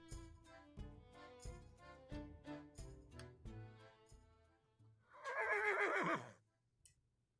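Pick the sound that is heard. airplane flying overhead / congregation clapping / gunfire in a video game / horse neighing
horse neighing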